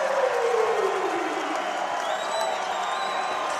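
Loud basketball crowd roaring and cheering inside an arena during a national championship semifinal, a dense sustained wall of noise with a faint horn or whistle tone rising over it.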